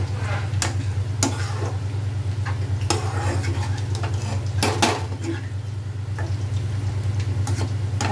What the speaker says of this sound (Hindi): और इसे हम अच्छे से मिक्स कर लेते हैं।